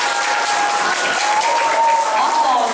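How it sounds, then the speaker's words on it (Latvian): Audience applause for the performers at a school Christmas concert: a dense, continuous wash of clapping from many hands, steady and fairly loud, with voices audible under the noise. "Mums tad vēlreiz aplausi mums koncertu dalībniekiem."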